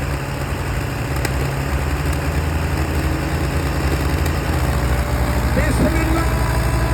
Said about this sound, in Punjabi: ਇਹ ਜਿੱਦਾਂ ਚੌੜਾ ਸਲੈਂਸਰ ਆ ਭਾਵੇਂ ਇੰਜਨ ਨਿਕਲ ਕੇ ਬਾਹਰ ਡਿੱਗ ਪੈ